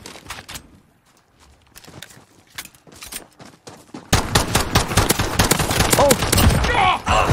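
Gunfire in the video game Call of Duty Modern Warfare, quiet scattered shots at first, then loud dense bursts of rapid fire that keep going to the end.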